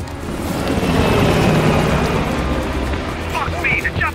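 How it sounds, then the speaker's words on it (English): A helicopter in Call of Duty Black Ops Cold War roars with steady rotor thrum as it flies away, loud and continuous, with game sounds around it. "the chopper got away"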